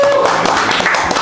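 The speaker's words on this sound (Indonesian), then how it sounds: "kasih tepuk tangan teman-teman untuk Pak Direktur" Audience clapping for the director at a business coaching session: a burst of hand claps from a group, with a voice talking over it.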